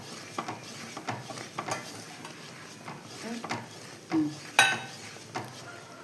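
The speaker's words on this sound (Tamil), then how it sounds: "ஒரு குழி கரண்டியாக ஊற்றி நல்லா கிண்டி விட்டுக்கலாம்." Mysore pak mixture of gram flour and sugar being stirred in a pan while hot oil is poured in bit by bit. Soft scraping and stirring strokes are spread out, with a brief bubbling sizzle and a metal clink near the end.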